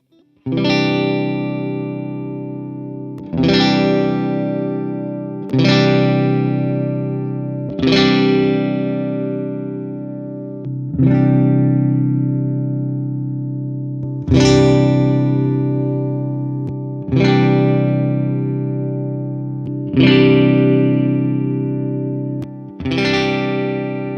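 Distorted electric guitar chords through a speaker cabinet simulation ring out one at a time, each strummed hit sustaining and decaying before the next, about nine in all.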